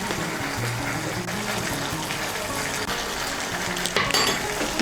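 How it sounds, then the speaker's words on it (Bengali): Ghee and garam masala powder being stirred together in a pan while making chal potol, a steady scraping and faint sizzle running throughout, with a brief louder clatter near the end. "ঘি আর গরম মশলার গুঁড়োটাকে মিশিয়ে নেব"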